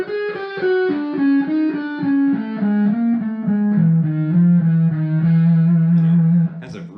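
Distorted electric guitar playing a descending chromatic left-hand lick, a run of evenly spaced notes sliding lower step by step, clear and close, ending in a short sustained tone.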